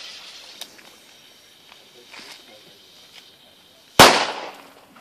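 A D-Böller firecracker from Diamond bursts with one loud, sharp bang about four seconds in, its echo trailing away outdoors after quiet background noise and faint voices.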